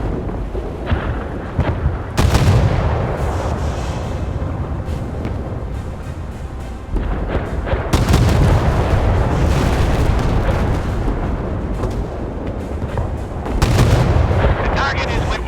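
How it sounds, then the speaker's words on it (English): Warship missiles launching and striking targets in the naval combat game Force of Warships, with heavy booming blasts and rumbling roars layered over continuous battle noise, alongside game voice announcements. "Missile launched. Target hit."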